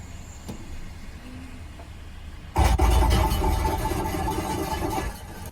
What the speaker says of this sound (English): Is that the sound your car makes?